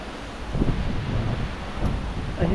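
Strong gusty wind buffets the microphone at an outdoor hot tub in San Diego, a steady loud rumbling roar with slight surges and no voices.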